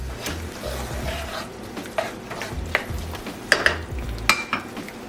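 A spoon stirs white wine into salmon in a pan, with soft sizzling under repeated scraping strokes and a few sharp utensil clinks against the pan.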